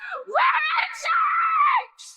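A woman in a horror film screams angrily, a loud, strained, wavering cry lasting about two seconds, breaking briefly and then trailing off into a shorter shout.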